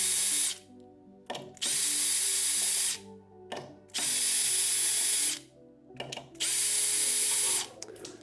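A power drill backs out the four screws holding the piston of a 400 Series control valve, several whirring bursts of a second or so separated by short pauses, close and clear with no speech.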